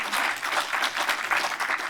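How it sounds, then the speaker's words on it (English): Warm audience applause for a county services speaker at a community meeting, steady and full from a sizeable group, lasting briefly at an even level. "Let's give him a warm round of applause."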